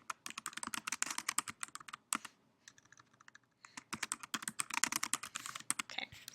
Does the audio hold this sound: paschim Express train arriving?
no